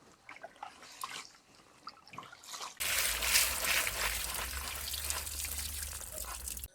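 Tap water running over pumpkin greens being washed, first soft trickles and drips, then a louder steady gush of water hitting the leaves, close by with no voices.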